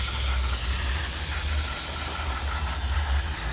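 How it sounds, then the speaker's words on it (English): Brake cleaner sprayed onto new Brembo brake rotors makes a steady, loud aerosol hiss that runs unbroken for several seconds. "So make sure you use brake clean and clean it off."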